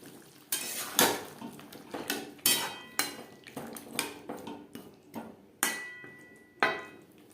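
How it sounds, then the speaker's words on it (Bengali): A metal spatula stirs potatoes and spices in a cooking pan over a gas flame, giving a run of about a dozen sharp clanks and scrapes at an uneven, rhythmic pace, close and clear with no talking. "আলু বেশ ভালো করে মিক্সড করে দেব।"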